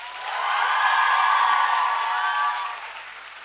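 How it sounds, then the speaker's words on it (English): Audience applause for the cast and crew of a school production of The Great Gatsby, a swell of clapping that builds, holds for a couple of seconds and fades, with a faint tonal ring over it. "Let us once again take a moment to appreciate all the hard work these people have put in into the play. Can we have a round of applause?"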